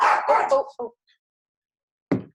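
Dogs barking at home, a burst of several yips and barks close by, a pause of near silence, then one more sharp bark.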